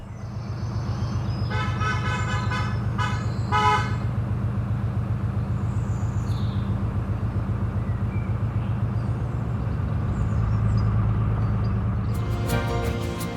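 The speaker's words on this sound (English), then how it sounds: "the cars sound their horns when they cross the bridge" Car horns honk in short bursts on a road bridge over the Coventry Canal, several toots early on and another near the end, over a steady drone of a narrowboat engine.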